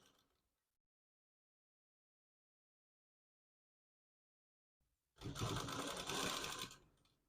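A 95-T10 model sewing machine stitches along a folded piece of fabric in one loud, steady, fast whirring run lasting about two seconds after a long stretch of silence.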